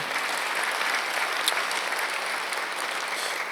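A church congregation claps together at a Sunday worship service, producing steady, even applause that stays loud and close for the whole stretch without talk over it.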